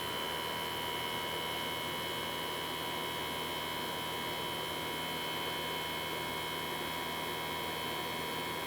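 A Germ Guardian AC4825 True HEPA air purifier runs with a steady, even whir of fan noise and a constant electrical hum, unchanging and close for the whole stretch.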